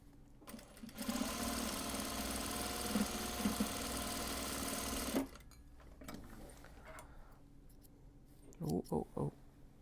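A sewing machine back-stitches a large box bag made of Japanese fabric, running in a loud, steady, close burst for about five seconds before stopping, followed by quieter handling sounds and a few short knocks.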